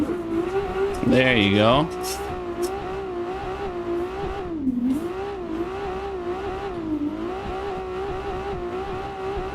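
A big four-door drift car's engine in the Assetto Corsa racing game drones steadily and loudly, its pitch dipping and climbing again as it shifts up through the gears, with a brief squeal early on and someone talking briefly over it.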